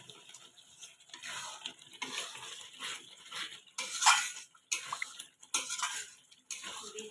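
Masala for Bengali egg curry is stirred and fried in a pan, with repeated scraping strokes of a metal spatula against the pan and a light sizzle underneath, in separate close bursts.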